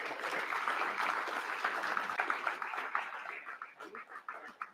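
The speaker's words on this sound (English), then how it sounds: "Round of applause." Audience applause at a fishing tournament awards ceremony, a dense wash of many hands clapping that thins toward the end into scattered individual claps.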